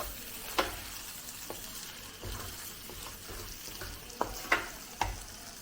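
Masala for egg bread masala sizzles quietly in a hot pan, a soft steady frying hiss broken by a few sharp spatula taps against the pan.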